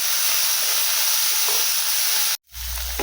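Onions, chopped tomatoes and peas fry and get stirred in a pan for biryani, a loud steady sizzling hiss that cuts out briefly near the end before resuming with a low rumble.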